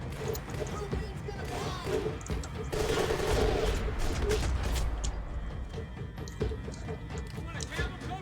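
Gunfire crackles through a tense firefight in the video game Max Payne 3, rapid shots and mechanical clatter layered over a dense, busy game mix with voices talking throughout.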